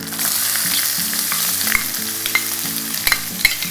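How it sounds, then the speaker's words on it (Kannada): Onions sizzle and crackle in a hot pan, a continuous frying hiss with stirring scrapes and a few sharp clinks near the end. "ಈರುಳ್ಳಿ ಹಾಕ್ಕೊಳ್ತಾ ಇದ್ದೀನಿ"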